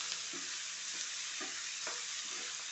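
Onions being stirred and sautéed in a pan, a steady quiet hiss of frying broken by soft, regular scrapes of the spoon about every half second, close up.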